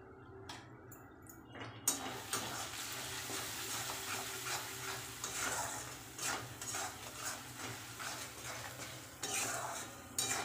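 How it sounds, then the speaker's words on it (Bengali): Spices sautéed in a pan for egg curry, with a spoon stirring and tapping rhythmically against the metal over a faint sizzle, close and steady throughout. "মশলা ভালো করে কষে গেছে,"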